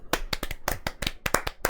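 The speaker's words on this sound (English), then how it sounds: "Please clap." Clapping heard as about ten sharp, separate claps at an uneven pace, close and crisp, with no talking over them.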